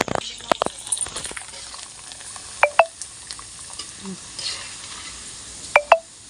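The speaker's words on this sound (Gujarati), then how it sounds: "તો હાલો મમરી તળી નાખી" Mamri snacks deep-frying in oil in a village kitchen, a soft steady sizzle with a few sharp clinks of utensils, people talking nearby.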